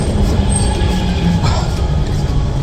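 A metro train arrives at a station in Istanbul with a loud, steady low rumble of wheels on rails and a faint high squeal along the track.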